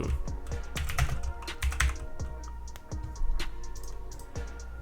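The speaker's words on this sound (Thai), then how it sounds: "เราก็พิมพ์ว่า phone link" Someone types on a computer keyboard in a Windows 10 setting, tapping a short burst of close, crisp keystrokes in quick irregular clusters with small pauses, no talking.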